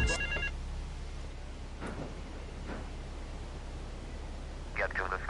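A telephone in the video game GTA 3 gives two brief electronic ring bursts, one at the start and one at the end, each over a steady background hiss.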